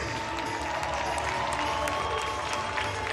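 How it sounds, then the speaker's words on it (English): A gymnastics crowd at a UNC meet hosting William & Mary gives the visiting seniors a steady, dense wash of applause and general crowd noise that lasts the whole stretch without letting up. "how about one more large round of applause for the visiting seniors from William and Mary"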